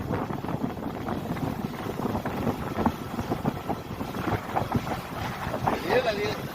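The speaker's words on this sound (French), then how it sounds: "On a une petite mer agitée." A sailboat under way at about 8 knots on choppy river water bound for Québec, with steady wind buffeting the microphone over continuous splashing and hull wash; voices murmur faintly at times.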